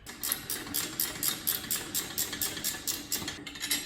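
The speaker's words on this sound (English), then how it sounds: "This is where it's nice to have the ratchet wrench" Ratchet wrench tightening a swivel caster on an engine stand, a quick run of evenly spaced clicking pawl strokes, close and fairly soft, with no talking.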